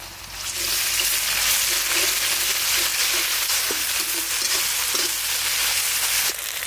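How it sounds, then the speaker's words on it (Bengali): Whole cumin, chopped onion and green chili crackle in hot oil in a village kitchen, a steady loud broadband sizzle running throughout with occasional faint stirring knocks, no voices. "ওই তেলেই ফোড়ন দিয়ে দেবো গোটা জিরে, দিয়ে দেবো কুচনো পেঁয়াজ আর কাঁচা লঙ্কা"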